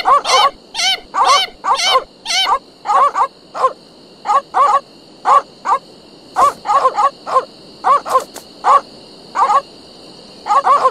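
Poodles in the pirate adventure game The Secret of Monkey Island bark and yap in quick bursts over a low steady musical tone, roughly twenty clipped barks, some in rapid pairs and clusters.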